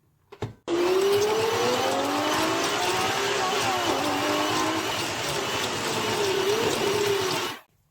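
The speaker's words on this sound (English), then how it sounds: "we're going to blend that up using my little hand mixer here" A small hand mixer blends brown and white sugar in a tall Pyrex bowl, a loud, steady motor whine that starts abruptly, runs for about seven seconds with slight pitch wobbles, then cuts off.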